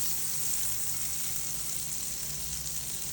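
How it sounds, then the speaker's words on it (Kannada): Butter sizzles steadily in a frying pan while white sauce for pasta is started, a continuous hissing fry with no talking. "ಓಕೆ, ಫ್ರೈಂಗ್ ಪ್ಯಾನ್ಗೆ ಬಟರ್ನ ಆ್ಯಡ್ ಮಾಡಿದ್ದೀನಿ."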